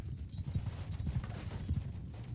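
Horses in battle in Mount & Blade II: Bannerlord, a muffled, fairly quiet rhythmic clatter of hoofbeats under light background noise, with a faint whinny.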